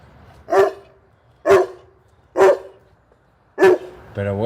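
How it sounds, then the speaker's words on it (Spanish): Four sharp barks from a St Bernard ring out at a steady, spaced rhythm, fairly close, with a brief voice starting right at the end. "¿Esos ladridos?"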